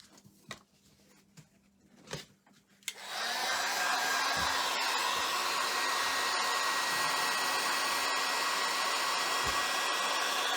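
A hair dryer is switched on around three seconds in and blows steadily and loudly to the end, drying a freshly stained craft board at a fall crafting event, after a few faint knocks and handling sounds.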